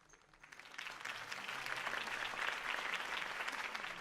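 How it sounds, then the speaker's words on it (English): Applause from a crowd at a political rally in Batman: The Telltale Series swells from a faint start into sustained, dense clapping that holds steady. "could have heard that applause"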